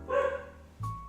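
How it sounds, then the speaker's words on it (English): Dogs barking nearby, two short loud barks separated by a brief pause, heard alone without talk. "If there's one noise I cannot stand nowadays, it's the sound of barking dogs."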